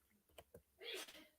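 A single quick sneeze bursts out at close range, preceded by a couple of faint breathy catches, in an otherwise quiet room during a boxing discussion.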